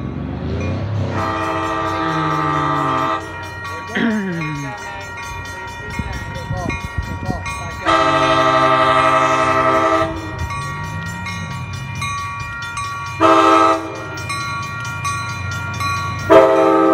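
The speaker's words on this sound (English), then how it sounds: "Always gotta wait for the train to pass by." A train horn blasts in several long, loud bursts over the heavy rumble of railcars rolling past close by, in Pleasanton.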